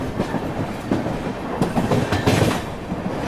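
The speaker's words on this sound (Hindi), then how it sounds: "हम विशाखापट्टनम कोल्लम एक्सप्रेस को ओवरटेक करने वाले हैं" An Indian Railways train on the Ratnagiri to Kochuveli route rolls along as it overtakes the Visakhapatnam–Kollam Express, with a continuous heavy rumble and rhythmic clickety-clack of wheels over rail joints heard from on board.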